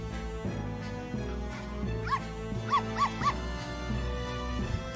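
Cartoonish dog barks from the Professor Layton vs Phoenix Wright: Ace Attorney video game, a short run of four quick yips over steady game music, with no talk.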